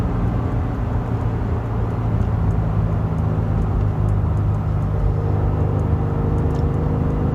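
A 2017 Subaru WRX premium running a Cobb stage 1 map accelerates hard from second to third gear, a steady engine drone and road rumble heard from inside the car without a break.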